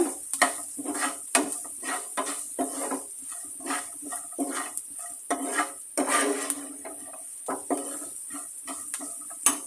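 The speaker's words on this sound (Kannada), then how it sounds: "ಎಲ್ಲ ಚೆನ್ನಾಗಿ ಕೈಯಾಡ್ಸೋಣ ಮಿಕ್ಸ್ ಮಾಡ್ಕೋಣ ಎಲ್ಲನೂ" Poha is stirred through seasoning in a pan, with repeated close scraping and clinking strokes of a spoon against metal over a faint sizzle, steady throughout with no talking.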